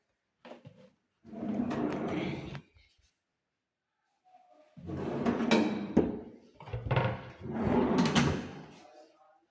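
Wooden drawers in a house being opened and shut, giving several bursts of sliding and knocking, some brief and some lasting a second or more, with short gaps between, close by and moderately loud.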